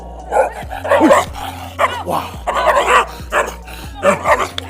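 A black female dog barks repeatedly and aggressively nearby in sharp bursts, with a brief exclamation from a person mixed in.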